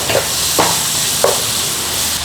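Onions and garlic sizzle in olive oil and butter in a pan, a steady loud frying hiss broken by a few stirring scrapes.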